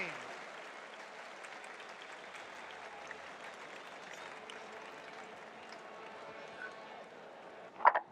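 A 27,000-strong cricket crowd at a 1986-87 Australia vs England one-day match cheers and applauds after a six, a broad sustained roar of clapping and voices with a sharper burst near the end.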